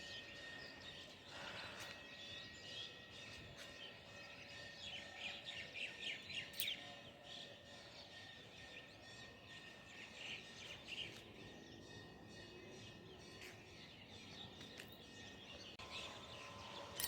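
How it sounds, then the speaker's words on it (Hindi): An Asian koel calls in the calm morning air, its faint, repeated notes carrying from a distance over soft chirping from other birds and a quiet outdoor background. "तो आप देख सकते हैं कोयल भी बोल रही है।"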